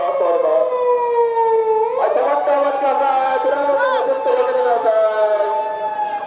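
A loud police car siren in Tokyo wails steadily, then its pitch dips and rises again while voices and crowd noise mingle underneath.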